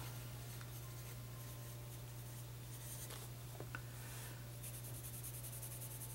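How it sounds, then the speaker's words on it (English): A Blackwing pencil writes on smooth Moleskine Voyageur paper with a soft, faint scratching of graphite strokes, close up and quiet under a steady low electrical hum. "So let's try it out with the Blackwing pencil."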